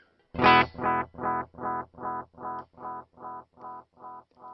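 A single plucked guitar note followed by about ten evenly spaced delay repeats, each echo slightly quieter than the last, with no talking.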